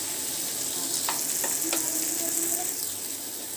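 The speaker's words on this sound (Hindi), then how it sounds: "तो टमाटर भी हमारी अच्छी तरीके से फ्राई हो चुके हैं।" Medium tomatoes frying with onions in a pan for a corn fry, a continuous close sizzle broken by a few sharp spatula scrapes and clicks midway, no talking.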